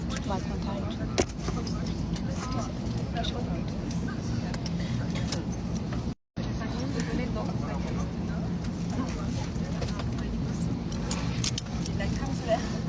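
A car drives along a road with a steady low engine and road rumble inside the cabin, broken by a brief dropout midway, with faint jingling and occasional clicks.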